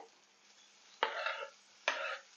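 Ginger, garlic, tomato, curry leaves and green chili stirred in a pan, two distinct scraping sizzles about a second apart over a quiet background.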